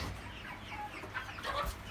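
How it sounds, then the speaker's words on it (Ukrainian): Chickens and young roosters cluck and chatter softly in a farmyard coop, a steady low fowl murmur with a few brighter calls over background noise, no talk. "Тут у нас 6 півніків осталось."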